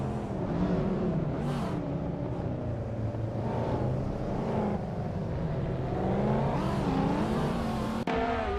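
A Ferrari F430 Scuderia race car in a racing video game launches off the start line. Its engine howls and rises through repeated revving sweeps as it accelerates, with other cars droning nearby and a sharp click near the end.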